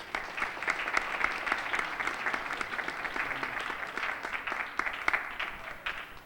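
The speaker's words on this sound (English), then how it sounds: "give them a big round of applause" Audience at a graduation ceremony gives a round of applause, a steady, moderately loud spread of clapping from many hands that carries evenly throughout.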